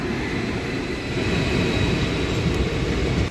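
Heard from on board, the 13141 Teesta Torsha Express from Sealdah pulls into Nimtita station at night with a steady, heavy rumble and a faint whine. The rumble cuts off abruptly at the very end.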